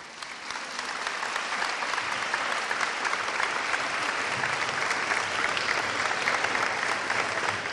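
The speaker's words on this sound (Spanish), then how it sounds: "un aplauso." An indoor seminar audience gives sustained applause to welcome a special guest, dense clapping that rises quickly and holds steady for several seconds.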